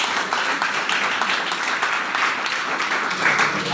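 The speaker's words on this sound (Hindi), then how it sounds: "इन सर के लिए एक बार ताली होना चाहिए।" Hall audience applauding at a seminar, a dense steady patter of many hands clapping throughout, fairly loud and close, with no clear talk over it.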